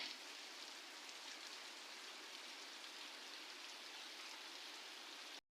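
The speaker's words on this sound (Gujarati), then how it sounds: "વરસાદ ફૂલ આવે છે અને ગાજે છે" Heavy rain pours down under a dark sky, a dense, steady hiss of falling water that stays constant for about five seconds before cutting off abruptly; no distinct thunder stands out.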